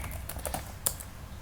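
Keys on a computer keyboard are tapped close by in a quick, uneven run of light clicks, with one sharper keystroke standing out near the end.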